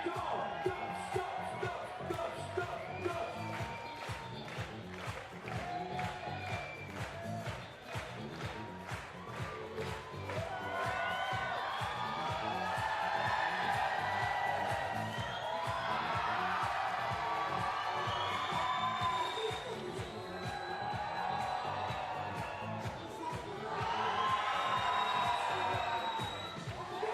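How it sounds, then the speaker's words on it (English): A basketball arena crowd at a FIBA 3x3 Women's Series finals in Debrecen claps along to a steady beat and cheers, with loud swells of shouting and whooping rising over the rhythmic clapping. "Clap your hands to the beat, come on."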